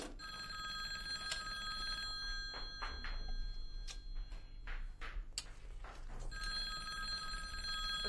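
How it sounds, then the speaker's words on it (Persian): A telephone bell rings in a quiet room, with repeated bursts of ringing heard alone and fairly faint over a low background hum. "پشت تلفن رو بردار."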